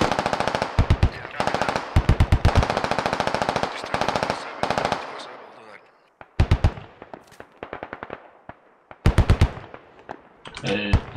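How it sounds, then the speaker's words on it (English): Bursts of automatic gunfire from a military shooter game, some long rattling volleys and scattered shorter strings of shots, loud at first then sounding farther off, with a voice briefly talking in between. "I'm taking fire from the northeast now, like far away."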